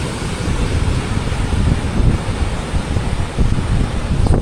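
Waves eroding the coast near the mouth of the Santo Tomas River, a continuous loud rush of surf mixed with heavy wind buffeting the microphone, steady throughout with no voices.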